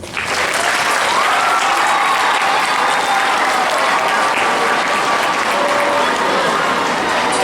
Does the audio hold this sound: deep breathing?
no